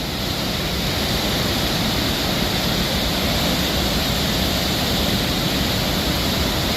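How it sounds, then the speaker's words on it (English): River rapids churn in a steady, dense roar of rushing water that stays loud and unbroken throughout, with no voices on top. "look at the rapids there. That is some angry water. Just churning and churning."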